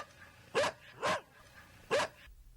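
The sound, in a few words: dog barking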